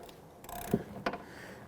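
A ratchet with a 12mm shallow socket and extension clicks a couple of times while turning a rust-sprayed bolt during starter replacement on a 2008-2013 Infiniti G37x 3.7L V6, quiet and close with no talking.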